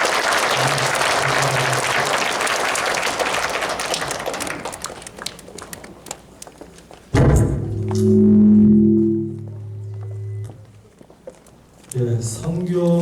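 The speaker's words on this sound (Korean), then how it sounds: "또 다시 한번 박수 부탁드립니다." Warm applause from a congregation at a Korean church prayer meeting and mission rally, loud at first and then thinning into scattered claps before sustained instrumental chords enter.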